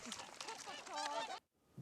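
Geese or similar waterfowl honk and call together in an open landscape, producing a busy, nasal chorus of overlapping cries that stops suddenly near the end.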